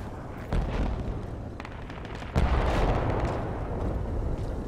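A heavy, rumbling video game tank cannon blast booms with a broad, roaring wash, followed by a second loud cannon-like impact amid continuous battle noise, with no talking.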